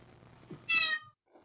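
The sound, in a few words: cat meowing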